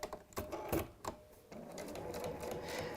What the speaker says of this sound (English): we're sewing it 1/4 inch seam, and we'll do 3 of these